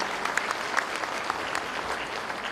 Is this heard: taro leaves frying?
no